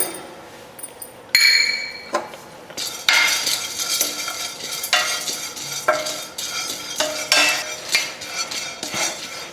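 Seeds and nuts dry-roast in a pan for homemade protein powder while a spoon stirs constantly. Sharp clinks and scrapes of metal on the pan mix with bursts of crackling, loud and close, with no voices.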